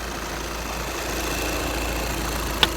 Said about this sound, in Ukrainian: Моторчик робить чистенько, гарно.